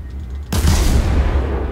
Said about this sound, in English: Fire the shells, I must shoot.